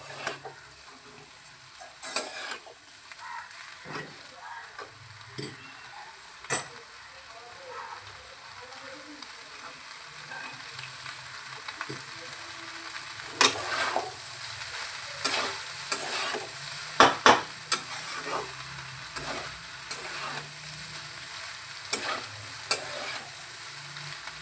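Food sizzling in a frying pan with onion greens and garlic greens, a soft continuous crackle broken by scattered clinks and scrapes of a utensil stirring against the pan.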